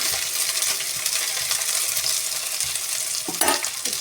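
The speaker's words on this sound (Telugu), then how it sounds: "కట్ చేసుకున్న పచ్చిమిరపకాయలు, కరివేపాకు వేసుకోవాలి." Chopped green chillies and curry leaves sizzle and spit in hot oil in a pan, with steady bright crackling and a brief scrape of stirring near the end, no talk.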